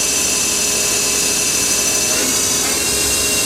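Mori Seiki Frontier L1 CNC turning center running its spindle at about 2000 RPM, a steady loud high-pitched machine whine with a constant hum, heard alone.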